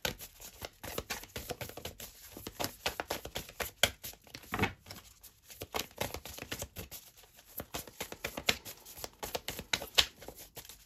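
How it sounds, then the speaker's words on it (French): Tarot cards are shuffled and drawn in a love reading, heard as a long run of close, quiet riffling and flicking card sounds in irregular bursts. "Je vais reprendre une autre carte sur la rupture"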